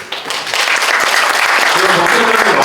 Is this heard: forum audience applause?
yes